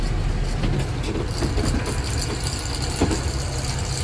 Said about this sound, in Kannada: ಕ್ರೇನ್ ಬಂತು ಕ್ರೇನ್ ಬಂತು ಕ್ರೇನ್ ಬಂತು